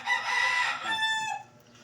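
A young rooster with a straight comb and yellow legs crows once, close and loud, the call rising and then trailing off within about two seconds.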